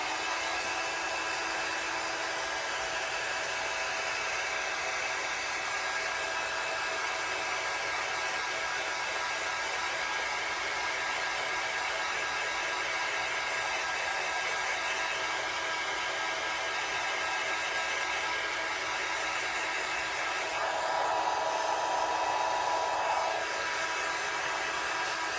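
A hair dryer runs continuously on a paper pumpkin stocking decorated with napkins, a steady close whooshing roar that holds for the whole stretch with only slight shifts as it moves, and no one speaks.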